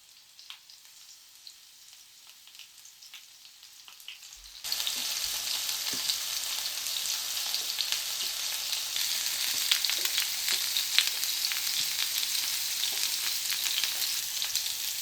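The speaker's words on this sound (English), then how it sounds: "You can hear that satisfying sizzle." Faint quiet crackles give way to a loud, steady hiss and crackle of food frying in a hot pan, which continues without a break.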